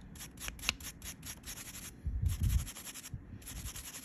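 Brushing dust from between the straight blades of a carbide nail drill bit, a close, dry scratchy rubbing in quick repeated up-and-down strokes with a brief heavier rub near the middle.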